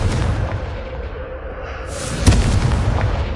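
A Confringo blast spell in Hogwarts Legacy, a loud explosive burst rising out of a continuous low rumbling roar, with scattered smaller booms trailing after it and no talk.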